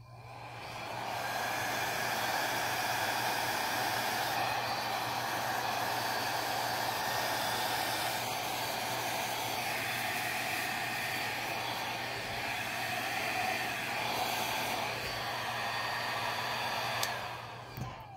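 A hair dryer blows steadily at close range, a constant whooshing roar with a low motor hum that runs without pause until a brief click near the end.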